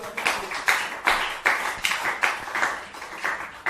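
A church congregation claps together in a steady, even rhythm, roughly two or three claps per second, moderately loud and filling the room, with no voices over it.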